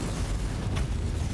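An explosion in Warhammer 40K Inquisitor gives a dense, rumbling boom that stays heavy and loud throughout the short stretch, with a brief burst near the middle and no talking.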